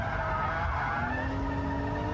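A car slides sideways through a corner in a drift, tires skidding and squealing continuously under a steady engine note, close and loud throughout.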